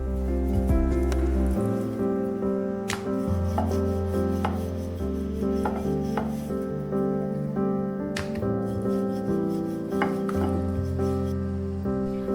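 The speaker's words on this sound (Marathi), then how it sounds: "आता याची आपण चपाती लाटून घेऊया." A rolling pin works puri dough, flattened into one even round for sweet saffron shrikhand puri, with steady rubbing strokes and soft knocks recurring every second or two over a constant tonal background, with no talking.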